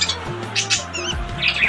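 Budgerigar chicks in a nest box at a bird farm give sharp, raspy squawks and short chirps, several bursts close by over a low background hum.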